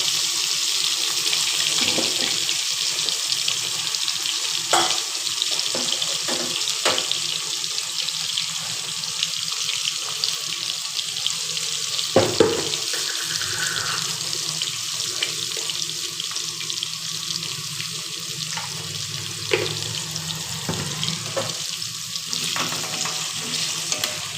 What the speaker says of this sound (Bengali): মাছ ভাজার তেলেই আলুটা ভেজে নেব